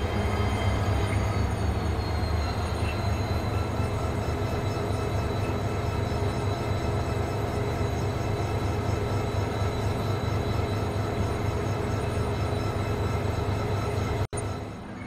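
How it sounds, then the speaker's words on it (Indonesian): A train's heavy mechanical rumble drones on steadily nearby as its locomotive is uncoupled at JB Sentral station, Malaysia, with a faint metallic clank near the end. "Itu keretanya lagi dilepas lokomotifnya."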